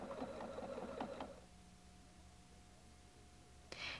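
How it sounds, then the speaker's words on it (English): Husqvarna Viking Designer 1 sewing machine sewing smocking stitch D32 over pre-pleated fabric: a quick, rhythmic mechanical stitching whir lasting over a second, then a faint steady motor hum and a sharp click at the end. "Touch stitch D32 and sew over pre-pleated fabric."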